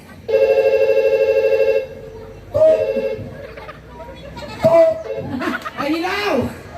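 A telephone rings on a call with a loud, steady electronic trill lasting over a second, then shorter bursts of ring tone, as people laugh and talk over it.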